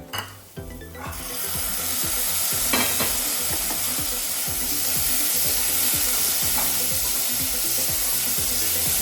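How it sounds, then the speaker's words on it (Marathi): Soaked, rinsed chana dal being stirred and sautéed with chillies in a pan, a steady loud sizzle with repeated rhythmic scraping of the spoon throughout, no voices. "हरभऱ्याची डाळ आपण एक तास भिजत घातलेली आहे तर आता स्वच्छ धुवून घेतलेली आहे ती मिरचीमध्ये आपण परतून घ्यायची"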